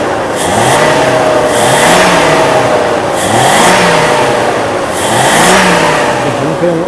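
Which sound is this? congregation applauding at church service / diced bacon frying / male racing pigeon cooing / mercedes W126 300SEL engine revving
mercedes W126 300SEL engine revving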